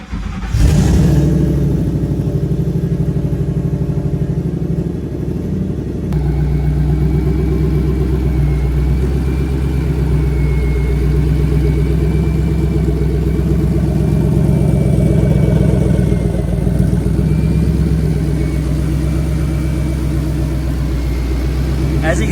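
A Ford Mustang engine idles loudly and revs on a 2-step launch-control limiter, producing a sustained, rough, near mechanical roar with fluctuating intensity throughout.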